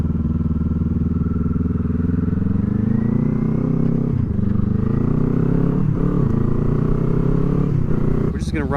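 A 2024 Kawasaki Eliminator fitted with a Voodoo muffler exhaust rides along, its loud, rumbling engine note rising and falling through gear changes and throttle shifts, with brief dips between pulls and a sharp noise at the very end.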